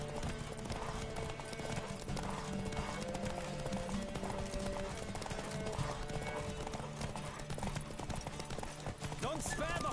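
Horse hooves gallop in The Witcher video game, a fast, steady clip-clop running throughout, loud and close under a layer of game sound.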